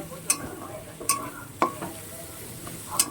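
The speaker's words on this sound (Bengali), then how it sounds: "এটাকে ভালো করে ভেজে নিতে হবে, পুরো লাল লাল করে ভেজে নিতে হবে এই চিংড়ি মাছের সাথে।" Prawns fry with masala and jackfruit in a pan: a soft sizzle underlies four sharp, evenly spaced scraping strokes of a spatula stirring, close and alone.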